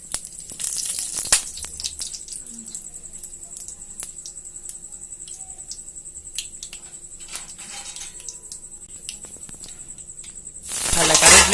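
Mustard seeds, cumin and fennel splutter in hot oil in a kadai, giving faint scattered pops and crackles over a low sizzle.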